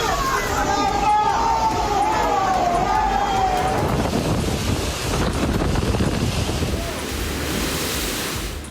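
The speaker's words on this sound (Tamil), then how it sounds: "சிசிலி மாகாணத்தில் ஹாரி புயல் தாக்கத்தால் பலத்த காற்று வீசியதுடன் கனமழை பெய்தது" Storm Harry batters the Sicilian coast with strong gusting wind and rough surf, a loud steady roar of wind noise on the microphone over crashing sea waves throughout, with no talk.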